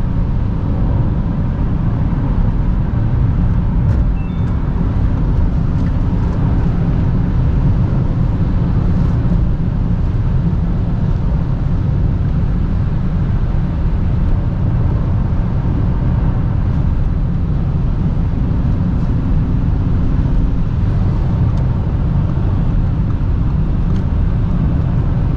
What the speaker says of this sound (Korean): 한번 직선에서 쫙 밟아 보겠습니다.